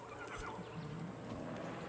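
A horse neighs faintly in the open-world game Far Cry 6, a thin whinny that sits low in the mix over steady background ambience.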